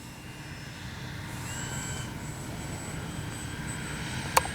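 An X-Fly Spitfire RC warbird flies overhead, its engine a faint, steady distant drone holding a level tone for several seconds, with a sharp click near the end.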